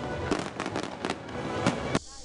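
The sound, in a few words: fireworks exploding at a fireworks festival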